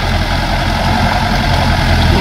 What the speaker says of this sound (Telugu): ట్రాక్టర్ అయితే సగం సగం దిగిపోయింది